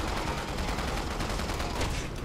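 Dense, continuous gunfire from the PC game Resident Evil 6, a steady roar of overlapping shots held at a loud level for the whole moment with no voice on top.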